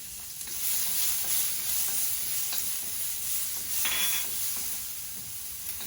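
Star anise, garlic and ginger cooking in a hot pan, a continuous bright sizzle close by, fairly even in loudness with faint utensil clicks.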